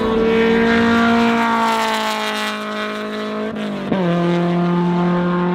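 A Honda S2000 drives on a track, its engine holding a strong, steady, near note that drops briefly with a gear change midway and then pulls again.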